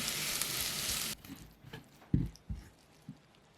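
Chopped onions with a spoonful of oil and a pinch of salt sizzle in a hot pot, a steady hiss that cuts off after about a second, followed by a few soft utensil knocks and clinks as they're stirred, close and alone.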